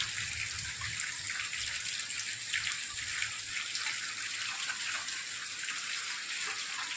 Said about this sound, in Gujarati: શાંતિથી વરહે કઈ ખોટું તોફાન નથી